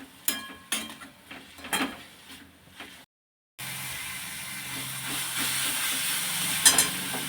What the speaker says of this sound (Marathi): एक दोन मिनटं आपण ही भाजी वाफवून घेणार आहोत